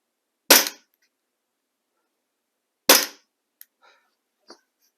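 Two sharp, loud pops about two seconds apart from a gas blowback airsoft pistol dry firing on single shot, each with a short metallic clack, followed by a few faint clicks of handling.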